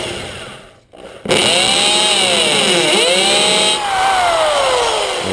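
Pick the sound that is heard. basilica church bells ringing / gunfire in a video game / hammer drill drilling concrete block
hammer drill drilling concrete block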